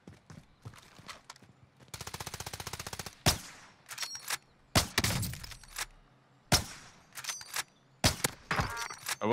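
Gunfire in Warzone: a rapid automatic burst followed by scattered single and double shots, loud and sharp with quiet gaps between them.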